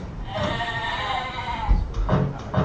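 Goats bleat loudly and close by: one long wavering nasal cry, then two shorter bleats, with nothing else around them.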